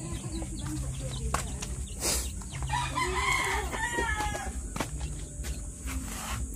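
Broiler chickens cluck on a farm while a rooster crows, a loud call near the middle, over a constant hiss of background noise with no voices.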